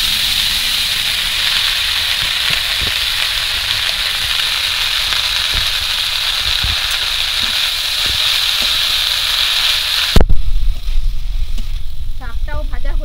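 Leafy greens (shak) frying in hot oil in a pan, a loud, steady, close sizzle and hiss that continues without break, with a sudden clatter near the end as the pan is disturbed.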